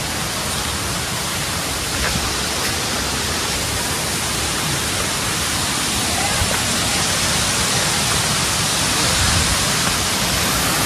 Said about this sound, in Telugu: ఇది అసలైన వాటర్ ఫాల్స్.